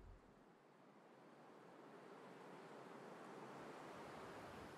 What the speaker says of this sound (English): I hear a little bit of a wind